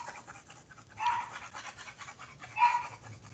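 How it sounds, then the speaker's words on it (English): Dogs panting indoors in the background, a soft rapid huffing that swells into two louder bursts between quieter stretches of breathing. "sorry if you can hear my dogs in the background, they get kind of loud."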